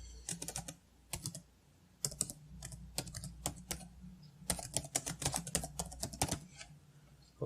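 Fingers type on a computer keyboard while entering an address into a LaTeX document, brisk clattering bursts of keystrokes with short pauses, close and fairly quiet.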